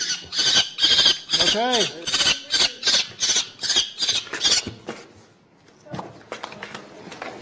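Young falcon chicks squawk and squeal loudly during banding with the state game commission, a rapid run of harsh repeated cries close by, then quieter handling noises as a person speaks briefly.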